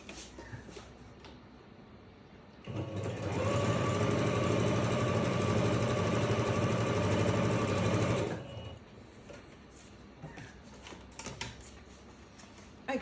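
A sewing machine stitches around a Kraft-tex notebook cover, running in one loud, continuous, rapid mechanical buzz for about six seconds between quieter stretches of small handling clicks.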